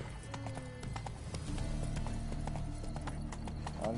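Unicorn hooves clip-clopping in a PS4 video game, a quick run of hoof strikes close by over a layer of game music and background sound.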